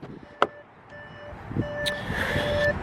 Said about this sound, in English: Beeping at me.